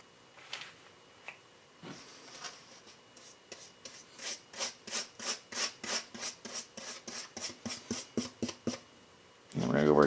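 Brush scrubbing brown paint over sand-covered craft terrain for a tabletop arena, a series of rhythmic raspy strokes, close, alone with no talk.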